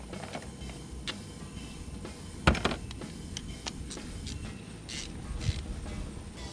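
A hand ratchet works 13 mm bolts loose on a Chevy LP5 Duramax engine, giving close, fine clicking runs with a couple of louder clunks over a steady background hiss.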